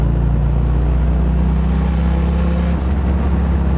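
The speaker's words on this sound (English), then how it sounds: "Oh, the turbo noises sound great." Turbocharged 600whp car running, a steady loud low engine drone with a constant rumble and faint whistling turbo hiss above it, close and continuous for a few seconds, dipping briefly near the end.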